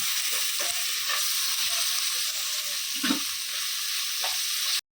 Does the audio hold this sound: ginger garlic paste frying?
yes